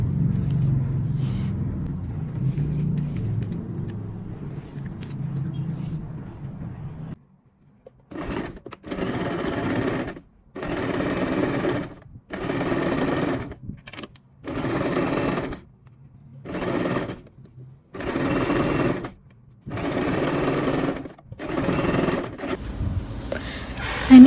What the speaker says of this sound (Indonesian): Nah, dijahit dari atas sampai bawah 1 cm.